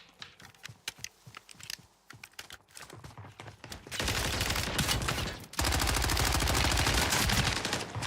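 Submachine gun fire in a video game comes first as light, typing-like clicks, then turns into dense, loud automatic bursts that fill the second half. The bursts break off briefly once and then resume.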